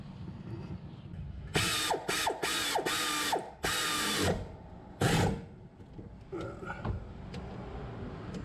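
A ratchet tightens the brake caliper screws on a 2013 Toyota Venza during rear rotor replacement, with loud, close bursts of rapid clicking in several strokes and quieter clicks toward the end.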